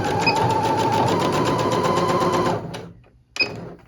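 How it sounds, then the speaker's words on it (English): Sewing machine running a seam on a fabric scrunchie tube, a close, steady rapid whir for a couple of seconds, then stopping, followed by a soft click. "I have the tube under my machine. We're gonna sew these right sides together."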